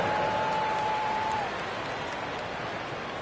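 Arena crowd applauding at a summer league basketball game with the Magic, a dense wash of steady clapping and crowd noise filling the space, with a faint tone sounding briefly early on.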